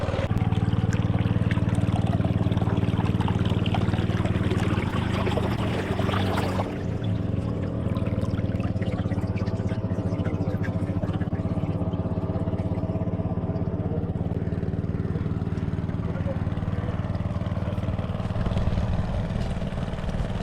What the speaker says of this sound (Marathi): आपला पंप आहे लागलेला आणि इकडचं सर्व पाणी उसपत आहे